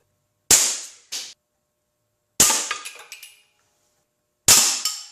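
Beeman P17 air pistol fired at targets in a garage: three sharp, loud single pops spaced about two seconds apart, each followed by a short metallic clatter of the target, no voices.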